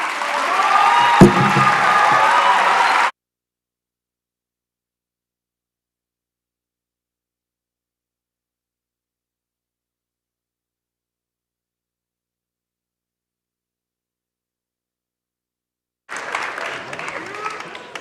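An audience welcoming a guest onto a stage with a burst of applause and some cheering, loud and dense for about three seconds. Long silence follows, then the clapping resumes.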